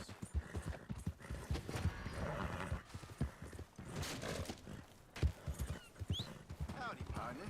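Horse hooves clip-clop steadily in the Red Dead video game, with a whinny and a voice talking over the hoofbeats throughout.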